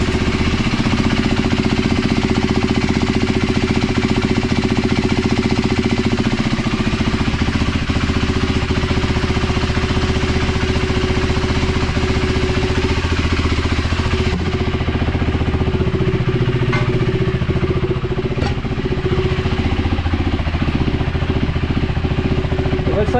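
Indoors, a 2024 Husqvarna Svartpilen 401 fitted with a FuelX Lite and a DNA stage 2 air filter idles in neutral. It gives a loud, steady, throbbing drone that shifts tone partway through, with no clear speech.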